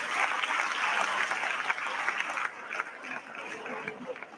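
A school annual day audience claps in steady, dense applause that fades slightly toward the end, with faint voices and a chuckle mixed into the crowd.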